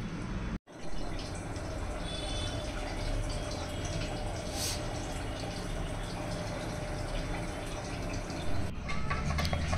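Sattu flour and two spoons of sugar stirred into water for a sherbet drink, a steady liquid swishing and clinking close by, continuous for several seconds with a brief break near the start and no speech.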